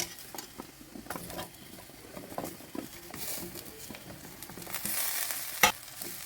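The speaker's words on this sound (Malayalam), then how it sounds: "ഇനി ഇതിലേക്ക് നമുക്ക് മുറിച്ച് വെച്ച വഴുതിനങ്ങ ചേർത്ത് കൊടുക്കാം." Cut eggplant pieces drop into a hot pan with curry powder and spices, giving a crackling sizzle broken by scraping stir strokes, with a sharp, loud burst of frying near the end.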